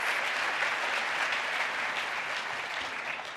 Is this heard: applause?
yes